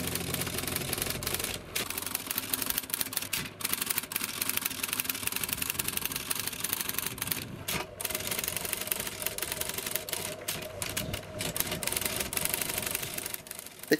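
A 1957 IBM RoboTyper electric typewriter used as a teleprinter runs on its own, with a steady motor hum under rapid, irregular mechanical clatter of keys striking and brief pauses, close and moderately loud.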